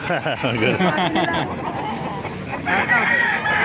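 A nine-month-old Hatch Kelso gamecock rooster crows loudly nearby, repeating its call while several people keep talking over and around it.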